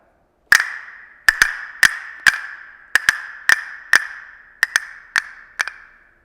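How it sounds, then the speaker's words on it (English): Wooden clam-shaped castanets are struck together in a series of sharp, bright clicks, some single and some in quick pairs, played alone in a lively rhythm with a short ring after each hit. "Next would be the castanets. These sort of clam-shaped pieces of wood,"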